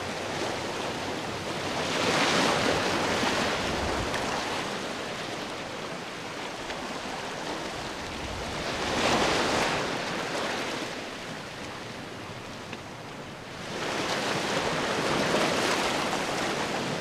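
Ocean waves breaking on a beach at night, with slow swells of surf rising and falling about every six to seven seconds over a constant wash of water and wind, no speech.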